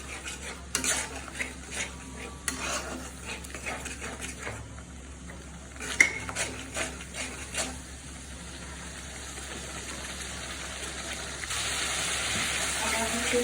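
Onion, ginger and garlic paste frying in a pan for a chicken roast, with a spoon repeatedly scraping and clinking against the pan over soft sizzling that builds to a steadier hiss near the end.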